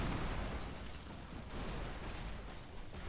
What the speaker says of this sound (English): Where are these explosions coming from?